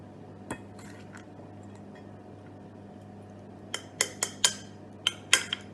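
A spoon clinks and scrapes against a dish while muesli tart mixture goes into a pastry case, several sharp metallic taps clustered toward the end over a faint background hum.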